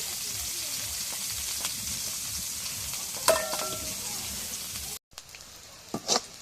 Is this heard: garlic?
yes